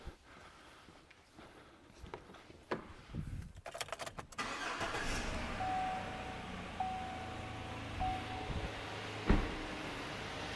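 A car engine cranks with several short starter bursts, then catches and settles into a steady idle, powered by an HPBS 5000A jump starter with built-in air compressor; close and moderately loud, no talking.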